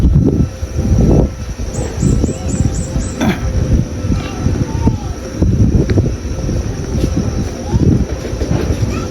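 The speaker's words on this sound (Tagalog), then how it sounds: "Pasensya na po kung medyo maingay kasi mahangin po mga kababayan." Strong outdoor wind pummels the microphone in loud, uneven low-pitched gusts and rumbles that rise and fall, with a faint high chirping sound briefly in the background.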